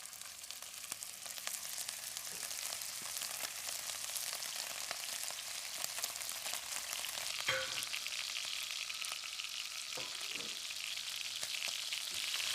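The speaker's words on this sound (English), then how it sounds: "Pan is smoking hot, time to get the meat in" Meat hits a smoking-hot heavy-based pot with plain oil and sears with a steady, hissing crackle of frying, faint but continuous, with occasional small pops and spatters and no talking.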